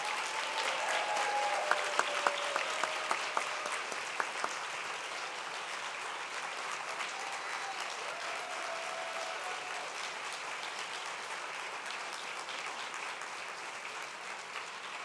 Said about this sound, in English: Let's have a round of applause for these amazing rising stars.